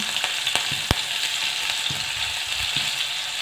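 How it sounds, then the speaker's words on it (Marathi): Garlic and green chilli sizzle in hot oil with cumin, mustard seeds and asafoetida for tempering, giving a steady close hiss broken by a few sharp pops and light stirring clicks. "त्यानंतर लसूण आणि मिरची घालूया"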